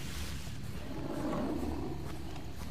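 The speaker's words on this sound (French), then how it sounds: "et j'entends un tigre aussi." Growling roar of a tiger in the video game Far Cry 3, set in open savanna, a low rumbling call swelling in the middle of a steady ambient wash, with no boars clearly distinguishable.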